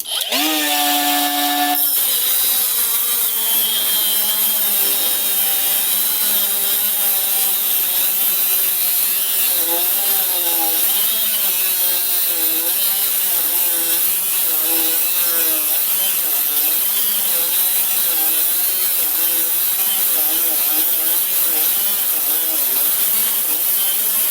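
A Stromo AGA 150 cordless mini angle grinder spins up with a rising whine, then cuts through an M10 steel threaded rod in a loud, steady, close grinding that wavers in pitch under load.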